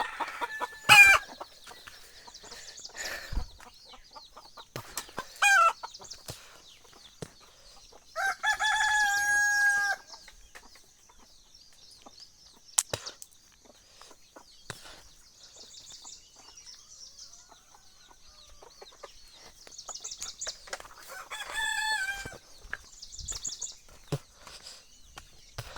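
Free-range desi chickens on a farm cluck in scattered bursts, with a rooster crowing loudly twice, once near the middle and again toward the end, against an otherwise quiet background.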